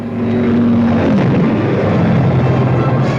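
A World War II fighter escort aircraft takes off with a loud, close propeller engine roar whose pitch drops as the plane passes, filling the whole moment.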